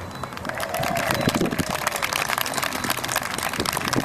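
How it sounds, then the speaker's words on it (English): Applause from a crowd of parents and families at a disability pride celebration after a parade, a steady dense clatter of clapping held at an even level throughout, fairly close and loud with no speech over it. "ask for a round of applause for all the parents that brought kids here today"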